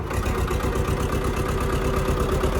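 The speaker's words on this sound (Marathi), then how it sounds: "आवाज पहा ट्रॅक्टरचा" A tractor engine idles steadily and fairly loud throughout, with a continuous low rumble and regular chugging pulses.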